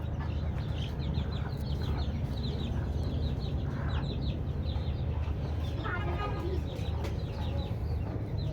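Chickens and their chicks clucking and cheeping on a rooftop garden, short repeated calls scattered throughout over a steady, loud low background hum.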